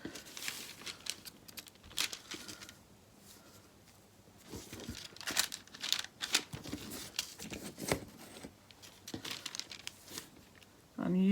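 Paper being cut for a junk journal with scissors, a soft run of crinkling and snipping at close range with short bursts, a few louder cuts, and a brief thump at the end.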